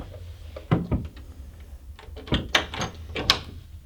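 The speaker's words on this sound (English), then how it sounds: "Can you unlock the door now?" A door is unlocked and opened indoors in a house: a few sharp clicks and knocks of latch and handle, then scattered rattles and bumps, fairly quiet and close, with no voices.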